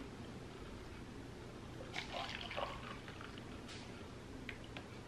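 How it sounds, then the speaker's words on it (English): Oat milk chai latte is poured into a cup in a quiet room, a short, faint liquid stream lasting under a second amid soft background hiss. "do you think I can pour it into this cup without?"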